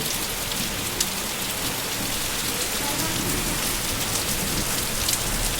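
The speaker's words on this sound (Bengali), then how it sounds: "মাই দেখো কীভাবে ঝড় বৃষ্টি হচ্ছে" Heavy storm rain roars steadily and densely on surfaces nearby, unbroken for several seconds, with scattered louder drops. No one speaks.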